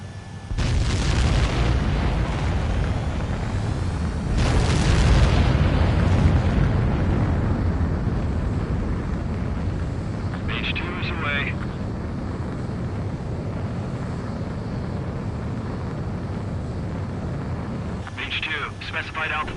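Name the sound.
aircraft launch and takeoff in a video game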